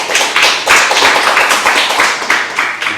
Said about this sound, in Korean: 큰 박수로 환영 부탁드립니다